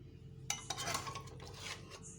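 Fish korma is served from a cooking pot, with faint scraping and clinking of a metal spoon against the pot in a few short strokes, quiet and close.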